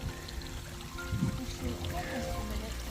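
Steady, close trickle and gurgle of a small stream along the Pacific Crest Trail in snowy high country, running continuously with a faint voice beneath it.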